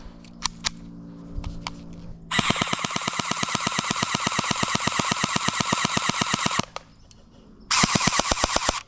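Airsoft submachine gun firing long full-auto bursts, a fast even rattle of shots lasting several seconds, then a short pause and another burst starting up; close and loud, with no talking.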